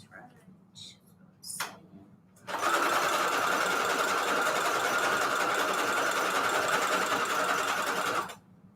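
Sewing machine zigzag stitching vellum pockets: after a few faint clicks and handling noises, the motor starts and runs in a steady, loud, close whir for about six seconds, then stops abruptly.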